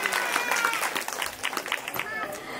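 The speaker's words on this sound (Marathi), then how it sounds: "आमच्या या काकूंसाठी जरा जोरदार टाळ्या वाजवायचं आहे." Women at a gathering applaud an aunt with a brief burst of brisk clapping, fairly close, with voices talking over it.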